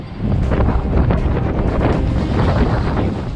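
Strong northern wind gusting around 35 miles per hour on a South Padre Island beach roars constantly and loudly, buffeting the microphone with a rough, unbroken rush.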